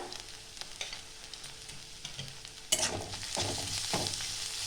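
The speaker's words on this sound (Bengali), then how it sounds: "তাও হালকা করে আমি ভেজে নেব" Onion, ginger, garlic and green chilies sizzle and get stirred in a pan, with a steady frying hiss, scraping spoon strokes and a louder burst of sizzle partway through; no one talks.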